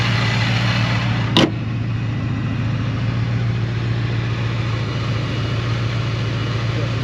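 A supercharged Gen 3 Aluminator 5.0 V8 in a 2012 Ford Mustang GT idles with a steady, smooth low rumble and a faint whine above it, interrupted once by a brief sharp click near the start.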